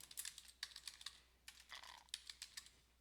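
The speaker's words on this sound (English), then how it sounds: "I'm going to type in gallery." Quick, light keystrokes on a computer keyboard, a short run of clicks, a brief pause, then another flurry of taps, quiet and close with no voices.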